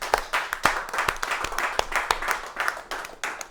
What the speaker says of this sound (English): Please give them a round of applause once again.